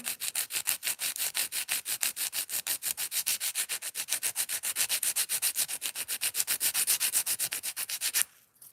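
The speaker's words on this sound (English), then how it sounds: "I'm going to be filing" A nail file rasps rapidly back and forth across a fingernail, about forty quick even strokes in steady rhythm, close and crisp, ending abruptly with a short pause.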